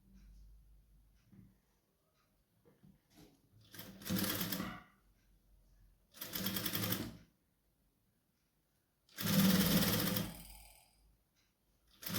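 Sewing machine stitching a fabric neckline in short motor bursts, three loud runs of rapid stitching separated by quiet pauses with faint handling clicks between them.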